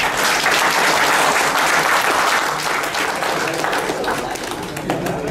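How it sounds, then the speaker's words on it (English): Audience at a corporate meditation session breaks into loud, sustained applause, a thick, even roar of clapping lasting several seconds and easing slightly near the end. "Give a big clap for your own self."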